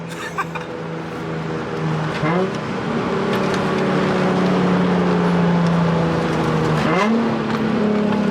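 Nissan Z engine heard from inside the car, holding a steady drone, then rising through revs with a downshift and a sharp climb in pitch near the end, loud and continuous.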